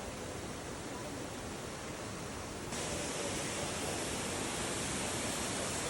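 Waterfall at Maling River Gorge in Guizhou, a constant hiss of falling water in steady noise, getting slightly louder partway through, with no voices.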